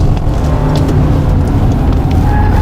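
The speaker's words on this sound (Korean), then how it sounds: "타이어 비명 소리도 많이 납니다. 이게 타이어 비명 소리가 날 만한 타이밍이 아닌데 그렇게 나고 있어요." A front-wheel-drive Kia Sorento 2.5T is driven hard, its tires squealing over a loud, steady roar of engine and road noise with no voices.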